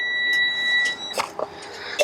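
Freightliner M2 bucket truck cab warning tone cycling after the ignition is switched on: a steady, high electronic beep sounds for about a second, then stops, leaving faint cab noise and a few light clicks.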